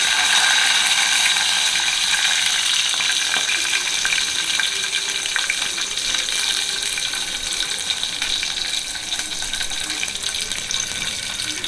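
Seeds sputtering and popping in hot oil alongside curry leaves for a kulambu, a dense, continuous crackle close by that fades only slightly over time.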